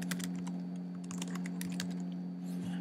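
Rapid, irregular clicking of keys on a computer keyboard as an email address is typed, close and fairly clear over a steady low electrical hum.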